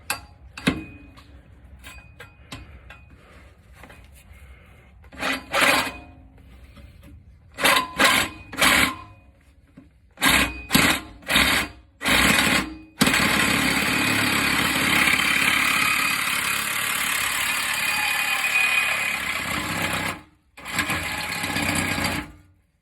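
A power saw cuts the exhaust pipe of a 2014 Chevrolet Silverado during an exhaust install: short start-stop bursts of a loud buzzing motor give way to a long, sustained cutting run, broken by one brief pause near the end.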